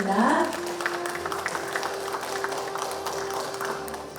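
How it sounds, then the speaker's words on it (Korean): Audience clapping at a Korean ESG management award ceremony, a sustained spread of hand claps across the hall at moderate volume, with a steady tone running beneath. "여러분 따뜻한 박수 부탁드리겠습니다."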